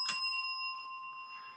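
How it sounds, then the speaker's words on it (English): A service bell at a boardgaming venue's front desk rings out in a quiet room, a bright ringing tone that sustains and slowly fades over a second and a half; the second strike of the double ring is not clearly separate. "that was the double bell"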